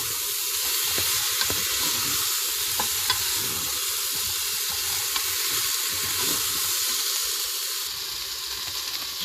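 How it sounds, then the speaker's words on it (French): Potatoes and knacki sausages frying in a Cookeo multicooker give a steady, close sizzle, with scattered light scrapes and taps as they are stirred, no voices. "Je mélange un peu."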